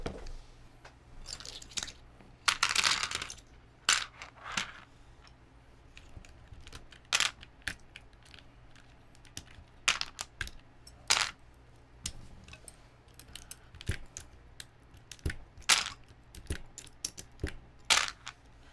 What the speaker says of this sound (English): I have to take all these keycaps off and grab a tray.